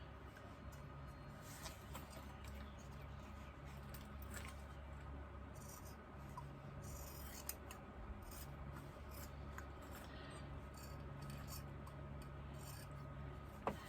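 Scissors trim waterproof canvas with a cottony texture across a zipper tape while sewing a crossbody bag, making soft, close, repeated snipping and rubbing sounds over a faint steady background hum.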